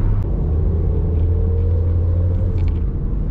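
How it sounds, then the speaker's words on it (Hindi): Toyota car cruising at about 80, a steady low engine and road rumble heard from inside the cabin, continuous and even with faint higher rattles, no voices. "तो गाड़ी रनिंग में 80 में जा रही है, बड़ी अच्छी जा रही है"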